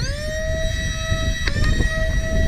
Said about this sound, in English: let's go ahead and take a few shots with that Swordfish with the Serenity cage, which is the exact same design as this, just metal